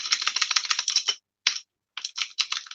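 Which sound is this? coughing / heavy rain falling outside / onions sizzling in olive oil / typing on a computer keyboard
typing on a computer keyboard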